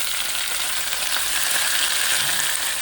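Precooked salad shrimps frying in a pan with butter and oil, a steady close sizzle with a bright hissing crackle throughout and no voices.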